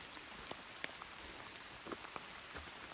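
Rain falls on a muddy hiking trail descending Stiles Peak, a soft steady patter with scattered close drops ticking on nearby surfaces, no voices.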